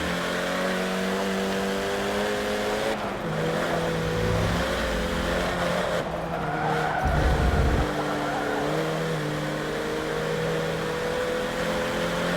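Peugeot 308 GTI race car cornering in Forza Motorsport 7, a loud steady engine drone with layered harmonics and tire squeal through a turn, with a heavy low-end surge midway as the car powers out.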